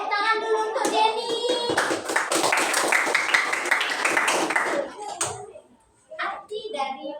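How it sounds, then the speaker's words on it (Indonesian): A group claps for Jenny, a brisk burst of hand clapping lasting about three seconds, framed by a speaking voice before and after, with children's voices mixed in. "Tepuk tangan dulu untuk Jenny."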